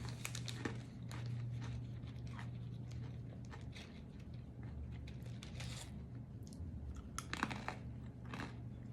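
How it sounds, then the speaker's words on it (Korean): Crunchy snacks chewed close to a microphone: quiet, repeated crisp bites and crunching over a low steady hum, with a few sharper bursts of louder crunching. "제 과자 씹는 소리?"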